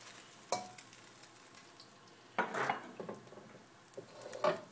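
Oil sizzles faintly in a pan while chicken curry cooks, with a few sharp utensil clatters and stirring bursts breaking a quiet background.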